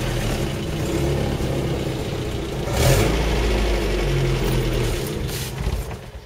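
A Land Rover Series 3 engine with a manual choke cranks, starts and revs. It settles into a steady, close idle with a brief swell in the middle and no talking.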